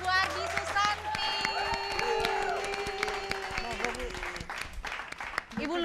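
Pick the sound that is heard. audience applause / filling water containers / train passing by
audience applause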